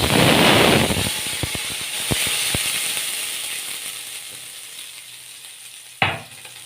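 Mustard seeds, cumin and fenugreek dropped into hot oil give a loud sizzling burst, then sharp crackling pops scattered over a fading hiss. A sudden clatter comes near the end.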